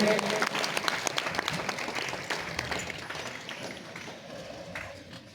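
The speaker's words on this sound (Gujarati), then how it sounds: "આમ તાળી પાડતા રહ્યું" Audience clapping at a student prize distribution ceremony, a dense steady patter of many hands that fades slightly toward the end, with a voice faintly over it.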